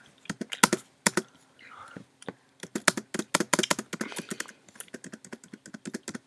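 A computer keyboard's spacebar is pressed over and over in quick, irregular bursts of sharp, close clicks, with a few short pauses between runs.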